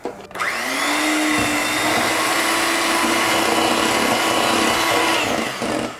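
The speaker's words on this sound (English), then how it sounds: "And we're gonna blend that for 1/2 minute on low speed." Electric mixer running steadily on low speed, blending confectioners' sugar, four egg yolks and milk for a blitz torte batter; a continuous close whir with a slight ramp-up at the start and no talking.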